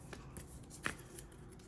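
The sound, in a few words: shuffling the Slay the Spire board game card deck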